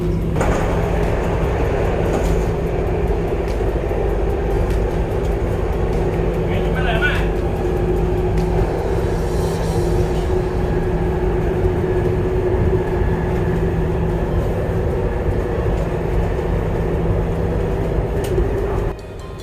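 A Namo Bharat RRTS train on the Delhi–Meerut line running at high speed, near 150 km/h, heard from inside the carriage as a loud, steady rumble and rushing roar that holds for the whole stretch.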